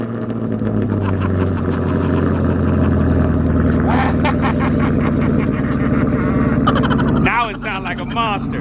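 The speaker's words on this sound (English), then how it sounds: "Let y'all hear that cold start with the new muffler delete." A Chevrolet Camaro ZL1 1LE with a muffler delete fires up on a cold start, its loud, deep exhaust rumbling steadily at close range throughout, with voices mixed in under the engine.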